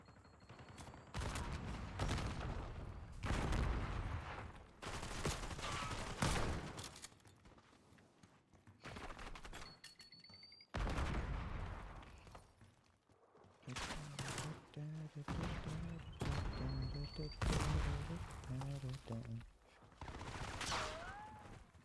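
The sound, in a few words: gunfire in the video game Call of Duty Black Ops 6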